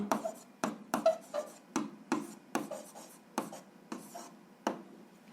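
Pen or pencil writing out the answer to an algebra exercise by hand, a close series of about a dozen short scratchy strokes in steady rhythm, each a brief burst, fairly quiet with no talk over it.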